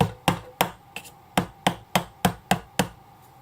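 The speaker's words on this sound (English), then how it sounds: "by hitting it with the hammer, you can just remove the pin" Sharp hammer taps on a wooden chopstick used as a punch to drive a pin out of a 3D-printed Scorponok transformer figure part, about ten evenly spaced close, crisp knocks with no talking.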